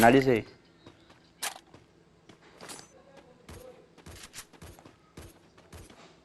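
Sharp bursts of gunfire crack out one after another in Free Fire, played on a Samsung A01, separated by short gaps, with a voice talking quietly underneath.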